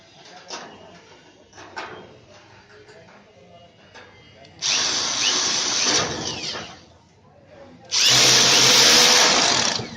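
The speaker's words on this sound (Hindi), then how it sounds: "इस ड्रिल मशीन की मदद से टाइट कर लेंगे।" A power drill tightens bolts on an air cooler grill, with two long whirring bursts near the close, preceded by quieter handling clicks and knocks and faint talk.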